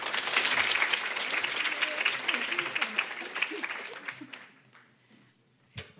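An audience applauds to welcome speaker Marji Ross at a conservative women's event, steady dense clapping that fades out over several seconds.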